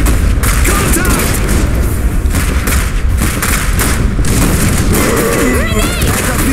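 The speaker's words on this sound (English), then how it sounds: "Grenade!" A grenade detonates during a battle in the real-time strategy game Iron Harvest, a loud booming blast set in dense, continuous combat noise with gunfire and thuds throughout.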